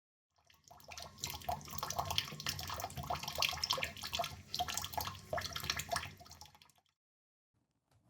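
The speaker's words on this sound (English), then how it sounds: "Reagan the cat drinking water" Reagan the cat laps water in steady, quick wet licks for about six seconds, close and fairly loud, then stops into silence.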